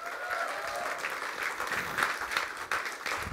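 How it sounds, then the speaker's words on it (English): Audience applause at a corporate talk for Flipkart staff, a fairly dense crowd clapping with uneven swells, a faint tonal sound briefly beneath it near the start. "I'm expecting a lot more louder applause than that from Flipkart"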